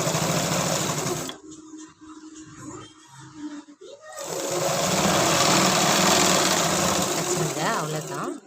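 A sewing machine stitches a child's tracksuit in rapid bursts, running loud and close, pausing briefly in the middle before whirring steadily again.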